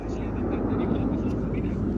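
Frecce Tricolori jets at full throttle during an air display at RAF Fairford, a broad, steady roar filling the sky, with a commentator talking over it.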